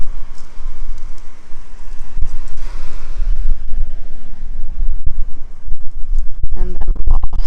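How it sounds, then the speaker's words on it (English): Strong outdoor wind buffets the microphone in steady low rumbling gusts for the whole stretch, loud and close, with brief rustling and handling noises near the end and no talking. "Wind is picking up, so I'm going to have to maybe hold on to these a little bit"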